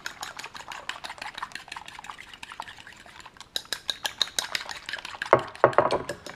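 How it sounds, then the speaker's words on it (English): A fork or whisk stirs two eggs for a small omelette in a bowl, giving quick, light clinking taps in an irregular rhythm that grow louder and busier toward the end, close and alone. "Making a small 2-egg omelet. And really stir it up."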